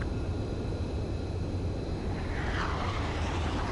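Aircraft engines in the video game Ace Combat 7 hold a steady, loud broadband roar through the whole stretch, with a whine that sweeps across it near the end and no talking.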